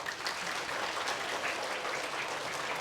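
Children applaud together at an Easter church event opening, a steady dense patter of clapping lasting a few seconds.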